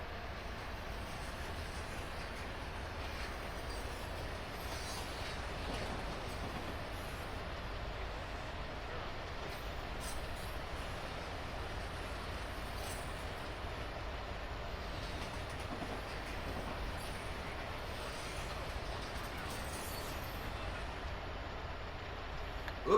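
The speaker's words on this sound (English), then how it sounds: "This is an SC-70 coming at us, as you can see, 3844. Carrying some hoppers and some boxcars." An SC-70 locomotive, number 3844, rolls past hauling a mixed train of hoppers and boxcars on Sherman Hill, producing a steady, continuous rumble with rail clatter that holds constant throughout.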